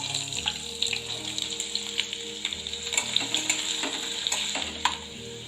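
Two large onions sautéing in a pan with chillies already fried in oil: an even sizzle underlies frequent scraping, tapping stirs of a spoon against the pan, close and fairly quiet, with no one speaking.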